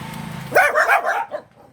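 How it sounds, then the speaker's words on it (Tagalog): A single dog barks close by in Ozamiz City, Philippines, a short sharp burst followed by a couple of softer yips, over faint background hum. "Ang aso."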